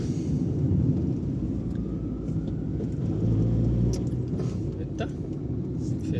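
A car moving through city traffic, heard from inside as a steady low engine and road rumble that swells slightly midway and never drops away.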